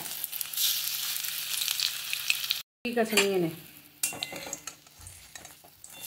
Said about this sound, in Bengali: আমি এই সাদা তেলটা দিয়ে ধনেপাতার বড়াটা ভেজে নেব।